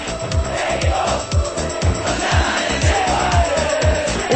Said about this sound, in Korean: The cheering is amazing.